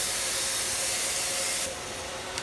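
A Graco HVLP paint sprayer sprays cabinets in a steady, close broadband hiss that holds level, then eases slightly softer toward the end.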